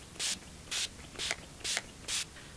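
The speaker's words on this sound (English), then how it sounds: "I'm gonna set this with some setting spray" Makeup setting spray mists out in five short, even bursts, each a soft close hiss with brief pauses between, in a quiet room.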